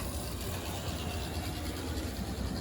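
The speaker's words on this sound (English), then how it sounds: "That is the sound of a old school electric engine." A continuous low whir from a vintage HO scale model trolley's old electric motor running on track, with faint rattling, steady and close, with no talking.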